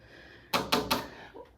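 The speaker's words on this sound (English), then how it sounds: "Wood doors." A hollow core wooden door in an older home bangs or latches with three sharp, close knocks in quick succession, followed by a faint softer bump.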